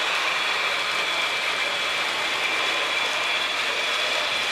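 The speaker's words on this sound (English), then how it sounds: "Train now passes the power plant located just outside Alexandria." A model train runs on the Mid South Model Railroad layout with a steady, continuous whirring and clattering hum that holds at an even level from start to finish, with no voices.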